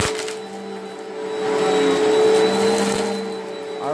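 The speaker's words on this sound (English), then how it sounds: "So let's test out our vacuum. See how it works." A repaired vacuum cleaner runs steadily with a loud, close tonal whine and airy roar that swells midway while it picks up small paper scraps, with no talking.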